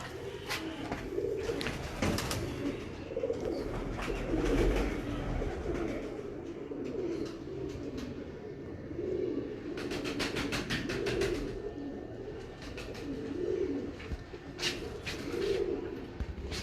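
Dakoo breed breeder pigeons on a rooftop in Kasur coo steadily, their low rolling calls overlapping in a continuous, moderately close chorus with a few brief bright chirps.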